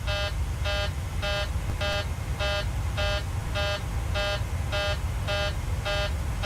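A repeating electronic cockpit warning alarm in a Boeing 737-700 in Microsoft Flight Simulator 2020, sounding as a steady rhythm of about a dozen evenly spaced harmonic beeps over a constant low engine rumble, with no speech.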